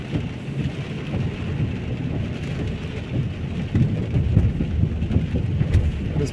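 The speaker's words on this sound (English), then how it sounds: "Rain, rain, rain." Heavy rain falls in Lewsey Farm, Luton, UK, a thick continuous roar of drops on pavement and puddles that swells slightly louder toward the end, with no talking.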